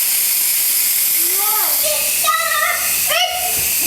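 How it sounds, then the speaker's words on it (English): An Instant Pot vents steam in a steady loud hiss, while a faint voice and high, whistling squeaks rise and fall over it. "You never want to try to open it without releasing the steam first."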